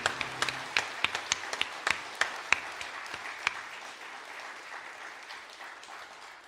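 Light applause from a small audience after a piano performance: scattered, distinct claps, fairly close, thinning out over several seconds.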